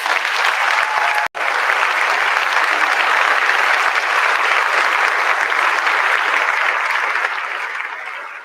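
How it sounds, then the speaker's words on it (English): An audience at a staff end-of-year celebration claps loudly and continuously, with a momentary break early on before the applause carries on and slowly fades toward the end. "So let's give Diane a round of applause."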